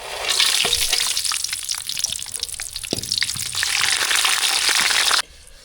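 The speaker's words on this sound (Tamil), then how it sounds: "நெய் நல்லா சூடாயிட்டு திராட்சை முந்திரி ரெண்டையும் சேர்த்து நல்லா வறுத்து எடுத்துக்கலாம்" Raisins and cashews roasting in hot ghee, a dense, steady sizzle with scattered crackles and spatters, loud and continuous for several seconds before cutting off abruptly near the end.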